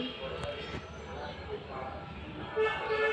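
A vehicle horn gives two short, moderately distant toots near the end, over a low background murmur in which voices can be heard.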